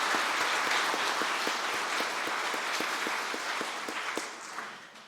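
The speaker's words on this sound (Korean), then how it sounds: "우리 서로를 격려하는 의미로 뜨겁게 박수하겠습니다." A church congregation at a New Year prayer meeting claps warmly, dense sustained applause that stays steady and then tapers off toward the end.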